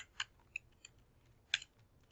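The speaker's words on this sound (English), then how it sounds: "I'm already typing, so I'll go ahead and type it out." Typing on a computer keyboard: a few sparse, separate key clicks with gaps between them, close and crisp against a quiet background.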